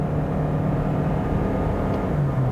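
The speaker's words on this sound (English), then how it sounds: "It's in power mode, still accelerating." A 2022 Toyota Corolla Hybrid accelerating hard in power mode, heard from inside as a steady, loud engine and road drone with a faintly rising tone and no talk.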